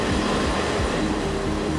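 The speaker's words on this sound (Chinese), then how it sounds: "看火车驶过" Train passing close by, a steady loud rumble with rhythmic low clatter throughout, no voices.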